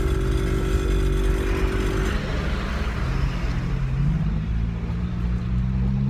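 Engine of a lowered 2018 Chevrolet Corsa on air ride and 15-inch wheels drones as the car drives off, a steady close road-noise rumble that shifts pitch partway through.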